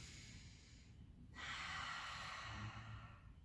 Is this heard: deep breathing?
yes